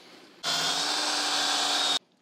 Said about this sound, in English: So I've just got a wire brush on a drill